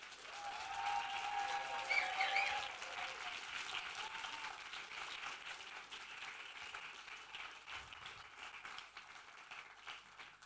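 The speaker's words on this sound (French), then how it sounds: "je vous propose que vous fassiez un énorme applaudissement à tous les candidats" A hall audience applauding all the candidates at a university thesis-presentation contest in Fribourg, a quiet, distant, sustained wash of clapping that swells early, then settles and slowly fades.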